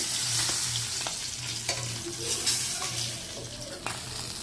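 Taro pieces fry in oil left over from frying koi fish, producing a constant close sizzle with bursts of bubbling and occasional stirring clicks, without any speech.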